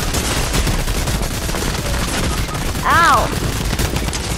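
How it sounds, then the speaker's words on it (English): Rapid video game gunfire crackles continuously in a dense, loud wash, with a brief rising whoosh near the end, while a player shouts short exclamations over it. "So much bullets flying everywhere."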